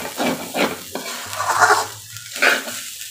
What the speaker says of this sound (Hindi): ये देखिए अच्छे से चला ली मैंने इसको।